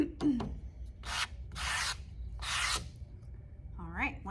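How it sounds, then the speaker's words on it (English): Paint is scraped across a surface to create texture, heard as three close, raspy scraping strokes spaced by short gaps, with a bit of voice at the start and end. "You can scrape as much as you want or as little as you want."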